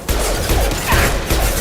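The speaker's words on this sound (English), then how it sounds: "Taking heavy fire!" A loud, dense burst of gunfire in a Mass Effect 2 battle, continuous and close, filling the short moment with rattling shots and impacts.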